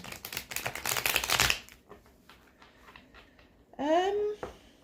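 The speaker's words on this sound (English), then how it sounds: "I'm just going to shuffle these one more time" Cards riffle and flutter in a quick burst of shuffling, then soft handling sounds follow. A voice speaks briefly near the end.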